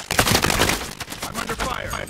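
Rapid, loud automatic gunfire crackles in a Call of Duty Warzone match, dense overlapping bursts with game voice callouts mixed in.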